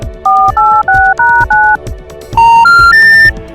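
A quick series of phone keypad dialing tones, five short beeps in a row, a pause, then three more rising tones, loud and close.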